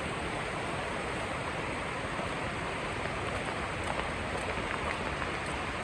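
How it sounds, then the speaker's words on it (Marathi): Dense, continuous roar of heavy monsoon rain pouring down at Parshuram Ghat, loud and unbroken with no voices. "जबरदस्त पाऊस असा पडतोय"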